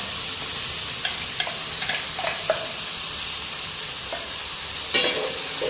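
Ground masala paste of green chilli, ginger, garlic, coconut and onion frying in a pan, with a steady soft sizzle and occasional scrapes and clinks as it is stirred.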